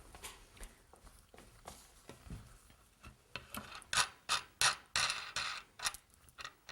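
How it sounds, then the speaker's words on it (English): A wing nut being unscrewed on a Louët weaving loom, heard as close scraping and ratcheting turns mixed with footsteps on the floor, growing louder and more rhythmic toward the end, with no voices. "Then I'm going to undo the wing nut at the front here."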